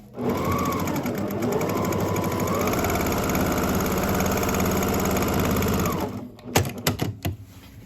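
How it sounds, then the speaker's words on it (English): A sewing machine stitches a welt pocket in one steady, loud mechanical run of rapid needle strokes for about six seconds, then stops, followed by a few sharp handling clicks and knocks. "I'll come back to this one and sew it this way, just to make sure I don't catch any pieces or parts underneath it."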